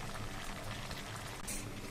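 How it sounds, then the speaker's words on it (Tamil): A pot of kuzhambu curry with chow chow bubbles at a steady simmer, soft popping and gurgling spread evenly throughout, close by with no voices. "இப்போ இது நல்லா கொதிக்க ஆரம்பிச்சுருக்கேன்."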